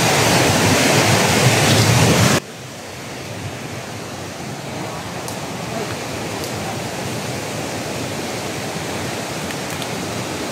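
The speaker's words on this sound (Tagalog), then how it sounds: "Guys, ragasa ng tubig." Rushing water surges through a forest stream, a loud, dense roar that drops sharply in level after about two seconds, then continues as a steady close wash with no voices.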